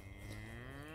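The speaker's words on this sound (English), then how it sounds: "Happy moomoos." Cattle on a farm giving a single close, drawn-out moo with a clear harmonic tone, filling the whole brief moment.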